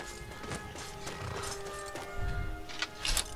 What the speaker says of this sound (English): So I can just have the horse come to me wherever I am.